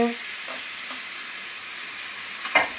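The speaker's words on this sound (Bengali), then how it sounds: "সব কিছু একসাথে ভাজাভাজি হয়ে যাচ্ছে" Capsicum and carrot stir-fry in a hot pan for chowmein, giving a steady close sizzle with faint scrapes of stirring.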